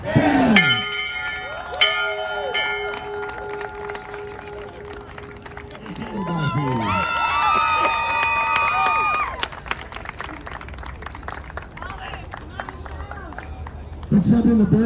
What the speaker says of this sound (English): Erica, ring that bell.